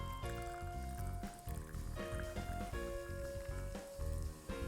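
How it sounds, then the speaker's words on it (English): Sparkling water or club soda is poured over a cocktail, a faint trickling pour with fizz heard softly beneath steady background music. "we are going to be topping this with some sparkling water or club soda"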